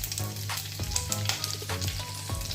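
Garlic sizzles in hot oil with mustard seeds in a pan, a steady close crackle and hiss with occasional louder pops and stirring scrapes, no voices.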